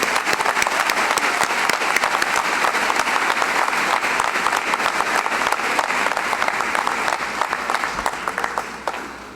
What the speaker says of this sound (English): Let's give one more round of applause for our associates.